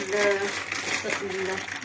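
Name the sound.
bag of macaroni being handled, crinkling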